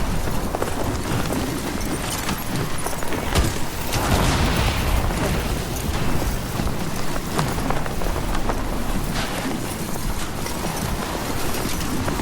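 Steady heavy rain pours and patters densely across the surface in a Death Stranding 2 storm, with a low thunder roll swelling near the middle, continuous and loud, no voices.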